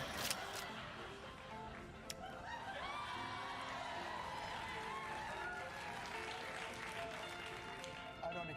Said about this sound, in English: I don't accept your pity applause.